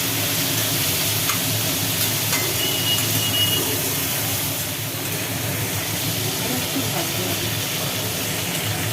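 Potatoes and ridge gourd frying in a pan with the lid lifted off, giving a steady, close hiss and sizzle that runs the whole time, with faint stirring scrapes under it.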